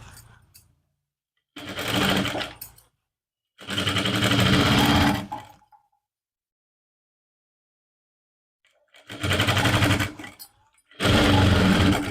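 Sewing machine stitching a suit lining, running in four separate loud bursts of steady whirring, each lasting one to two seconds, with silent pauses between them and no talk.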